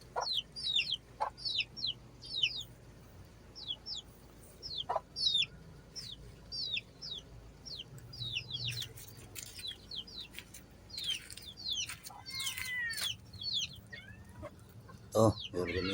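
Chickens, including gamecocks and hens, cluck and chirp repeatedly at close range, with short bursts of calls scattered throughout over quiet outdoor background and faint voices.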